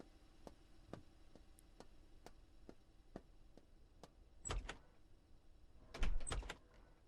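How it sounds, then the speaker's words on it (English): Doors slamming shut in a Russian Trans-Siberian Railway train simulator game: a steady series of sharp, evenly spaced clicks, then two heavier thuds, one midway and a louder cluster near the end, each crisp and close. "Shut all these doors."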